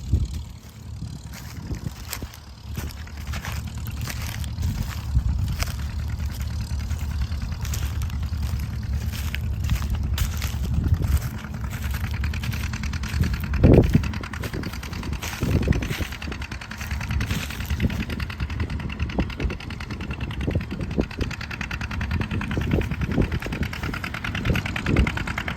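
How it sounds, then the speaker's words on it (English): John Deere two-cylinder tractor running while plowing in rocky soil, a steady low engine chug with irregular knocks and clunks from the field, heard at a moderate distance without talking. "It's a loud tractor because it's a John Deere 2-cylinder"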